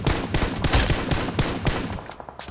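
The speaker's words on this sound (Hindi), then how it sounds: "दूर से गोली चला रहा है" Rapid gunfire rattles through a BGMI match, a quick string of sharp shots in bursts, loud and close at first and then thinning into a few scattered cracks, with no voices.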